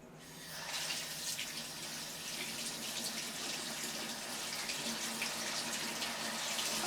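A kitchen tap runs steadily as vegetables are rinsed beneath it, a close, continuous hiss and splash of water that grows slightly louder toward the end.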